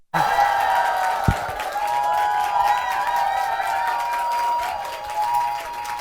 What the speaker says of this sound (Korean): 박수랑 함성 한 번만 해주실 수 있을까요?